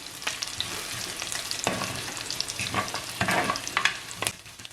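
Dried fish with cloves and cardamom sautéing in a hot pan for a baby jackfruit curry, giving a steady close sizzle broken by several sharp stirring scrapes and clatters, with no talking.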